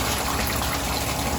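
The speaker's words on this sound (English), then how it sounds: "That's the rest of the water in the block there." Coolant water gushes out of a Honda Prelude H22/F20B engine block onto a garage floor, a continuous, loud, hissing splash without pause throughout.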